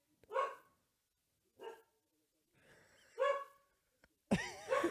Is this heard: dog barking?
yes